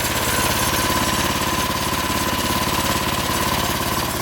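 A custom dune buggy with a 420cc engine idles steadily while warming up, a loud, continuous close-up chugging with a fast even pulse and no talk over it.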